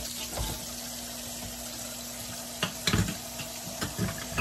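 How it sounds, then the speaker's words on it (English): Dishes being washed with dish detergent at a sink under a steady stream of running water, with scattered clinks and splashes that grow busier toward the end and no talking. "So right now I'm about to just go ahead and wash the dishes."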